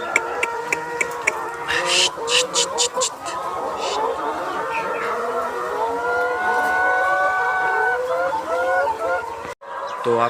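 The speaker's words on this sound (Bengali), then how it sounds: "আমি আপনাদের একটা মুরগি দেখাই" Layer hens on a poultry farm cluck and squawk steadily at close range, a busy flock chorus with someone talking over it.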